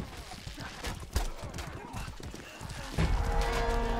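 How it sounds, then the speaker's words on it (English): Horse galloping in the medieval combat game Mordhau, rapid hoof clip-clop amid clashing battle noise and a player's voice, growing louder and denser in the final second. "Horse rider left."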